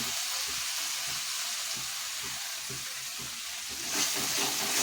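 Cumin powder, coriander powder, turmeric and salt fry in hot oil with a continuous, close sizzle and soft stirring scrapes, swelling briefly louder near the end.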